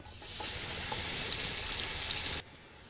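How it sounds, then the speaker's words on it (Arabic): Fish for kabsa, rubbed with seasoning, lowered into hot oil: a loud, dense frying hiss that starts abruptly, holds steady for about two seconds, then cuts off. No voices. "بعد ما يدبل اروح منزلاه في الزيت"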